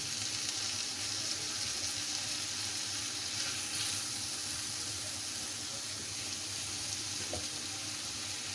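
A chicken mixture cooks in a pan with a faint, steady sizzle and soft hiss, low and continuous without any talking.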